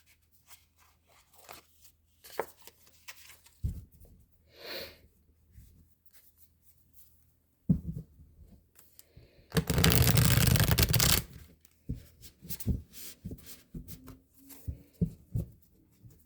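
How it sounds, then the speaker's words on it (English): Tarot cards are shuffled in a dense, crisp riffle lasting a couple of seconds, framed by scattered soft taps and handling noises of cards being placed. "Let's give it a little shuffle."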